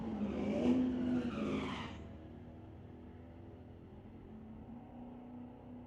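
A small block Chevy drag car racing an Infiniti at a street-legal night at Mission Raceway Park, roaring and squealing loudly for about two seconds before fading to a low distant rumble.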